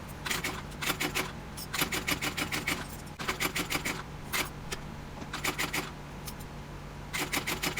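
A sewing machine stitches zipper tape with a 1/8 inch seam while a handbag is assembled, giving rapid mechanical clatter in bursts of about a second, broken by short pauses, steady and close.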